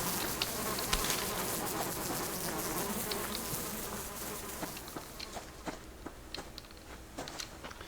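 Bees from a honey-gathering spot in the survival game Subsistence drone in a steady insect buzz that stays close and fairly loud at first, then thins out with scattered faint ticks and taps as they fall behind.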